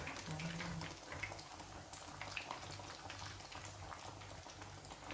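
Chicken pieces for a homemade zinger burger sizzle and bubble steadily in hot frying oil, a continuous close crackling hiss with no talk.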